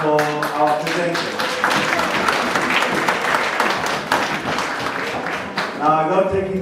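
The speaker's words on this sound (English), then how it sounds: "A round of applause for our presenter." Conference audience gives a presenter a loud round of applause, dense clapping swelling in the middle, with talking briefly audible at the start and end.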